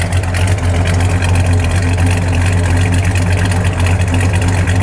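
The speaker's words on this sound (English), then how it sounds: "Let's hit the brakes for a second and let it idle." The 426 Street Wedge V8 of a red 1964 Dodge Polara 500 with a four-speed idles loud and close, a deep steady rumbling throb that stays even for several seconds without talk.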